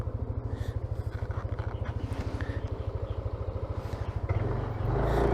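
A large motorcycle crosses a swaying bridge on a trail near Masanga Point in Quezon. Its engine throbs in a rapid, even pulse up close, then swells louder and smoother near the end, with no talk over it.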